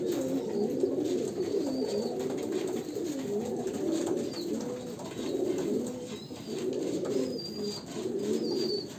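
Kalanka pigeons of a pure Andhra bloodline coo in repeated rolling phrases close by, with faint chirps from other birds in the background.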